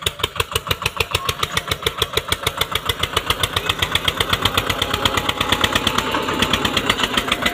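Eicher 241 tractor engine running in fourth gear, a steady loud diesel chug with rapid regular firing pulses that builds slightly in intensity throughout, with no talking.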